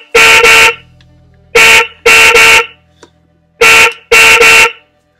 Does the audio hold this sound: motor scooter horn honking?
yes